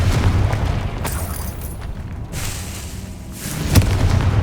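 Fire spell explosion from the Hogwarts Legacy video game, a deep booming blast under a continuous rumbling game soundscape, with a sharper burst near the end.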